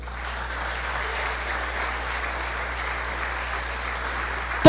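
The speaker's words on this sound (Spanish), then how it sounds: "Bríndele un aplauso a ese nombre" Steady applause from a church congregation during a sermon, a continuous even patter of many hands that holds at moderate level throughout with no voices over it.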